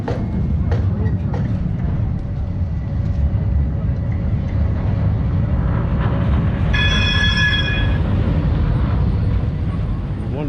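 A tram in Porto, Portugal rumbles in steadily with heavy low-end roar, then wheels squeal in high bright tones as it arrives close by; a voice talks briefly underneath.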